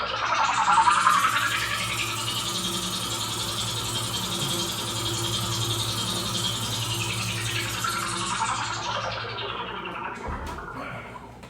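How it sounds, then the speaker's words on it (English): A Korg Poly 800 synthesizer plays a cartoon magic ship sound effect: a sustained, buzzy, rattling synth texture that swells and sweeps for about eleven seconds, with a brief thump near the end. "every time their magic ship would fly from strata to strata, it would make this synthesizer sound"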